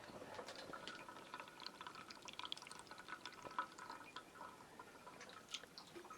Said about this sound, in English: you can hear it trickling away.